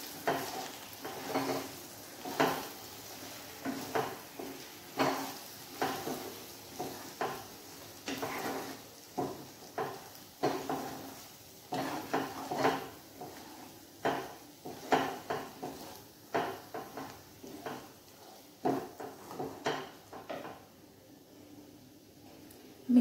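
A spoon scrapes rhythmically through biulir or kolai dal filling in a hot pan, with faint sizzling beneath. The repeated stirring strokes are close and moderate in level.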